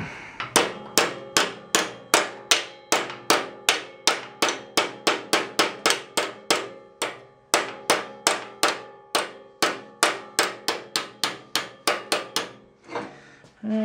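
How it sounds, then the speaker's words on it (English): A hammer strikes a ball joint on a Datsun 521's suspension over and over in a quick, even rhythm, each metal blow ringing sharply and close, with a brief pause near the end. "try to tap that with a hammer."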